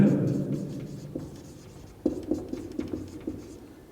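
An answer is written out on paper or a board during a math lesson, heard as a run of short scratchy strokes and taps that grows sharper in the second half, fairly close and clear.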